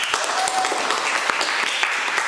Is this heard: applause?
yes